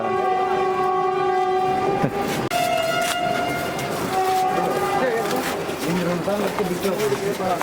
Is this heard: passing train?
yes